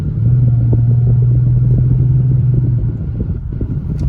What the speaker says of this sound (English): I can give y'all a little bit of exhaust, a little bit of gas, not too much.